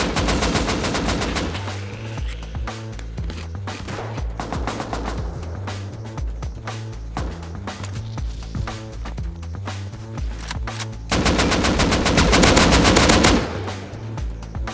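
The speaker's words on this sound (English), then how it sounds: "There's a guy up there trying to shoot me." Gunfire in the video game Rust: sustained rapid automatic fire, dense continuous bursts of shots for the whole stretch, loud and close, briefly intensifying near the end, with no speech.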